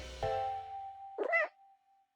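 A cat meows in a cat video game, two clear drawn-out calls heard alone at close range.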